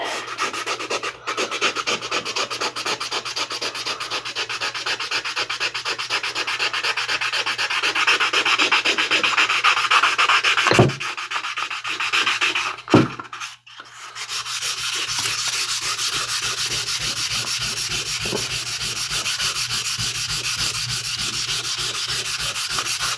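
A sharpening stone is rubbed back and forth on sandpaper to flatten it, giving a loud, close, continuous gritty rasp with a short break near the middle and no speech.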